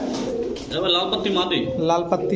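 Kaldom pigeons coo softly in a pen, a few low throaty calls overlapping a voice talking throughout.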